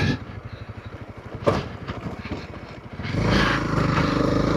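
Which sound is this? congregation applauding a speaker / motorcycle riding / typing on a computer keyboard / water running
motorcycle riding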